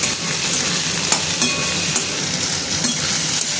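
Potatoes, onion and chunks of ridge gourd fry in a pan, giving a loud close sizzle broken by scraping stirs and small clinks, with no one talking.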